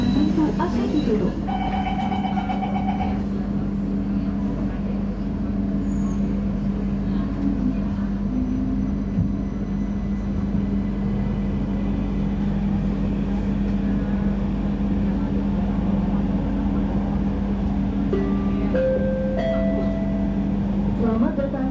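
An LRT Jabodebek Bekasi Line train pulling out of Pancoran station in Jakarta, a steady loud electric motor hum and rolling drone heard from inside the car, rising whine tones as it speeds up, with announcements and voices over it.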